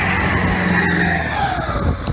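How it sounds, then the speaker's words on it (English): Muscle cars leaving a car show burn rubber as loud engines roar and tires screech continuously. The sound is close and sustained, with no talk heard. "let's end things with cars leaving the Muscle Palooza show, burning some rubber"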